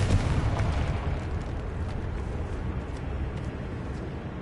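A Confringo blasting spell explodes in a tomb in Hogwarts Legacy, a loud boom that opens heavily and rolls into a long, dense rumbling decay.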